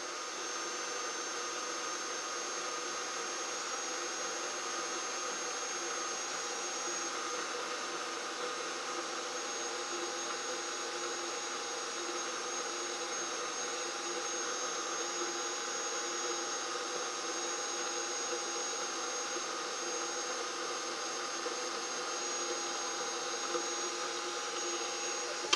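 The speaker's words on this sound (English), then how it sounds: "The saw is so good, these blocks don't even get hot." A saw cuts metal blocks for a Porsche 911 camber adjuster, producing a steady, fairly quiet mechanical whir and hiss that runs unbroken throughout, with no voices over it.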